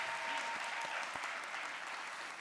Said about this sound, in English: Let's give a round of applause to see hooded